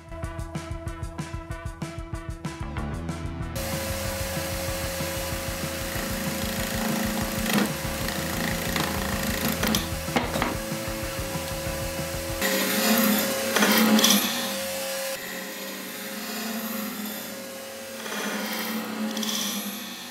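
A wood lathe spins an epoxy-and-wood wand blank, a steady motor hum under scraping and rubbing of the tool against the piece, close and fairly loud, changing tone as the cut shifts.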